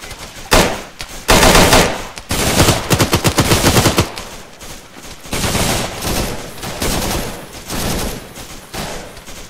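Bursts of automatic weapon fire crackle in a Vietnam War MAC-V SOG operation game, dense volleys and rapid shots overlapping in heavy, loud exchanges for most of the stretch.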